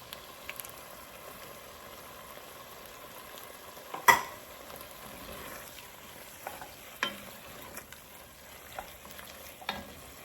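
Tomato sauce sizzles in a hot pan for arroz con pollo, a steady soft frying hiss broken by a sharp clank and a few light scraping stirs.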